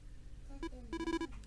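A telephone rings faintly in the Detective Conan & Kindaichi game, short electronic tonal beeps, one brief chirp followed by a quicker burst of several pulses over a low hum.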